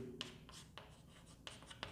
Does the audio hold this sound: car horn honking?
no